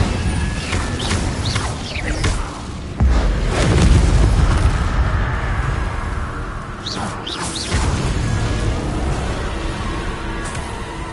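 Fiery spell blasts from a Hogwarts wizarding video game, loud and continuous booming bursts with whooshing flares, a heavier rumbling burst near the middle, sustained throughout.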